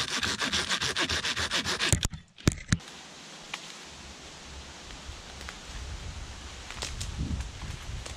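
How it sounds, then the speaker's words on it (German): Rhythmic rasping strokes of a hand saw cutting dry wood, fast and close, stop after two seconds and leave quiet outdoor rustling. "Okay, dann säge ich das hier ab."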